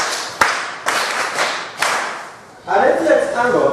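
Classroom of pupils clapping for a classmate during a maths lesson, a few loud bursts of group clapping separated by short pauses, followed by a rise of children's voices.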